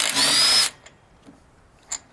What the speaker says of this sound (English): Now we use the Craftsman battery-powered impact gun to take off the flywheel